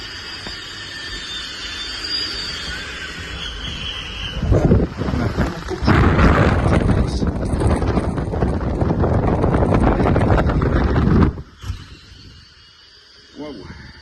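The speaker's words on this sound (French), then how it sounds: "Vous entendez le vent là?" Strong wind roars and buffets the microphone in sustained loud gusts on an eighth floor in Turkey, then drops away abruptly near the end.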